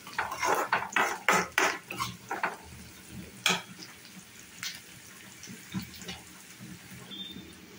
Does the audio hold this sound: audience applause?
no